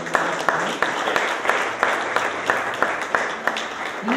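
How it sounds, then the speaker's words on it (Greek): An audience at an astrophysics talk on Syros applauds, with sharp, evenly spaced claps standing out above a steady bed of clapping. "το θερμό χειροκρότημα θα"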